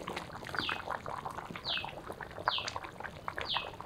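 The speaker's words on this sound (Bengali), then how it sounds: "এলাচ দারচিনি পাটাতে নিলাম, উপরে একটু জল নিলাম, একটু থেতলে নেই" Cardamom and cinnamon crushed with a little water on a grinding stone, heard as four evenly spaced scraping grinds, each a short rasp, close and moderately loud.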